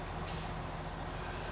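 An air-braked truck in the snowy off-road driving game SnowRunner gives a loud, steady hiss of released brake air under the rumble of its idling engine, heard alone without talk.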